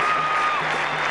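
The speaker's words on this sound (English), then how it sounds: "Applause." Warm, sustained applause from a cricket crowd celebrating a batsman reaching fifty, a dense wash of clapping heard steadily and fairly loud with no individual voices standing out.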